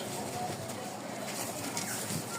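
Pigeons coo in a pigeon seller's loft, the soft coos faint and blurred under a loud, constant wash of background noise throughout.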